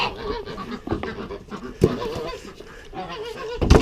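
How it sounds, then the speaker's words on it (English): Geese honk loudly close by in a poultry yard alongside ducks and chickens, with several harsh calls scattered across a few seconds and a burst of honking at the end. "Morning, geese. Morning, ducks. Morning, chickens."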